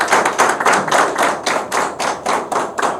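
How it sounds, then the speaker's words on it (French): Loud audience applause at a Gabonese political gathering, many hands clapping in steady bursts close by with no voices over it. "je voulais qu'on applaudisse pour elle."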